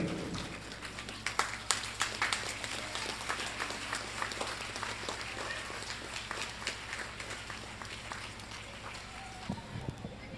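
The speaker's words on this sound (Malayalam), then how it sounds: "എല്ലാവരും ഒന്ന് എണീറ്റ് നിന്ന് 1 മിനിറ്റ് സമയം ഷെരീഫ് മാസ്റ്റർക്ക് നല്ലൊരു കയ്യടി കൊടുക്കുക" Clapping from an audience at a school LKG and UKG annual day rises in scattered, uneven bursts, fairly close and lively, then thins out toward the end, with some shuffling and movement mixed in.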